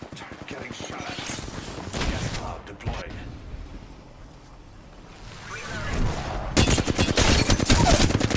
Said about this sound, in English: Taking fire. Getting shot.